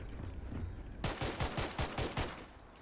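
Full-auto fire from a modded G17x sidearm in the space shooter Starfield: a rapid burst of about eight punchy shots after a second of quiet, near and loud, ending abruptly.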